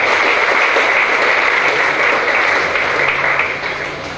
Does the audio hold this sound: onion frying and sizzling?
no